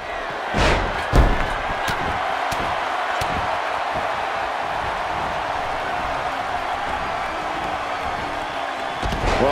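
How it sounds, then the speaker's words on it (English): A neck breaker slam lands in a WWE 2K18 women's wrestling match, a sharp thud early on among a few scattered impacts over a steady arena crowd roar that fills the rest of the clip. "Takes her out with a neck breaker."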